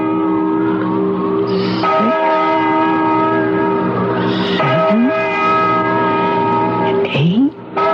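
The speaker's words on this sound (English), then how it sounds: "Listen to that bell." A deep, resonant bell tolls repeatedly at a slow, even pace, each strike ringing out and lingering into the next, with a faint sliding tone between strikes.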